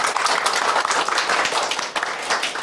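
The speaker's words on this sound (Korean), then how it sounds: "예, 박수." Church congregation clapping together during a Sunday worship service, a dense, steady wash of applause that fills the whole short stretch without a break.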